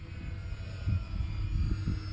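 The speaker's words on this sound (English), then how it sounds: "This is just a nice little cruising around kind of plane." An X-Fly Twin Nova RC model airplane cruising overhead on a sunny afternoon, a steady distant electric motor hum with faint swells as it passes.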